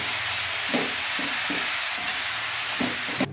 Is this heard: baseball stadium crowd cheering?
no